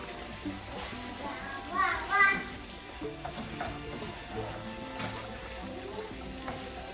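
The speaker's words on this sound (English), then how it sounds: "And I'm gonna mix everything together now." Ingredients being mixed together in a pan for a weeknight dinner, with soft scraping and sizzling strokes of a spoon, a couple of louder stirs near the middle, under a voice and children chattering nearby.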